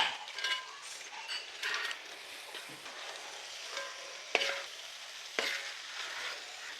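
Fried chicken tipped into a curd-based masala in a pan for biryani and stirred: close, intermittent scrapes and clinks of the spoon over a low, steady sizzle, with no voices.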